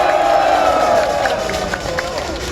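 A crowd at a political rally applauds a lawmaker, producing a steady, loud wash of clapping and cheering voices that holds through the whole short stretch.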